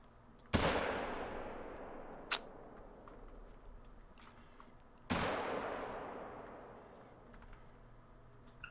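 Two loud hunting rifle shots in theHunter: Call of the Wild, each a sharp crack trailing into a long echoing decay across open terrain, spaced several seconds apart with a faint click between them.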